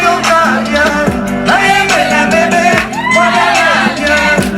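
An audience cheers, shouts and whoops loudly for a performer being welcomed onstage, with music playing underneath and a voice briefly speaking over the lively crowd.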